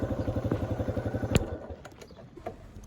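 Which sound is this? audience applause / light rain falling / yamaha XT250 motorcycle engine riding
yamaha XT250 motorcycle engine riding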